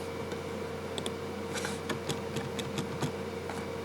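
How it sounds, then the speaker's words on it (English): Keys on a computer keyboard are tapped in an irregular sequence of light clicks over a steady background hum of a fan. "Now you can type."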